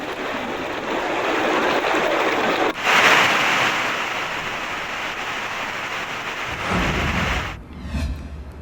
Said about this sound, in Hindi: उत्तराखंड में लगातार हो रही भारी बारिश